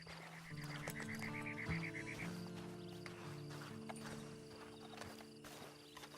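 A horse in the video game Red Dead Redemption Online snorts and its hooves clop at a moderate level, mixed in with steady in-game tones and background ambience throughout.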